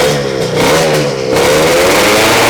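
A Yamaha Nouvo motorcycle fitted with a KR exhaust pipe revs loud and close, its engine note rising and holding in one continuous burst.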